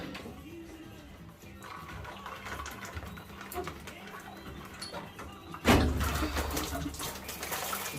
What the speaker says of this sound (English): Now I'll catch it any surplus water that's coming out there.